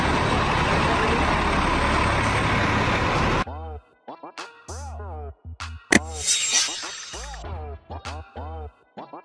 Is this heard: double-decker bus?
yes